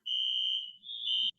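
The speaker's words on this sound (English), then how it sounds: "Is that the fire alarm?" Office fire alarm sounding a loud, steady high-pitched electronic tone that holds for about a second, dips briefly, then resumes before cutting off sharply; no talk over it.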